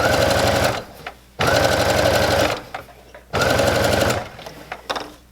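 A sewing machine runs in three loud, close bursts of fast mechanical stitching, gathering the fabric of an apron skirt, with quieter pauses and handling noises between runs.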